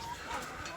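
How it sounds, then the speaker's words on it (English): A hen clucks briefly and softly nearby in a garden, a short low burst of fowl sounds lasting under a second. "I got a hen coming up to join me"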